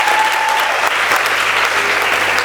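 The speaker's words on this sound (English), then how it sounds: "Please give them a clap because they are ladies too." An audience at the 2023 Women in Film Awards applauds the women lead trainers, a dense, steady wash of clapping that carries evenly from start to finish with no voices over it.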